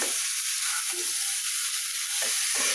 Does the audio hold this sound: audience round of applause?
no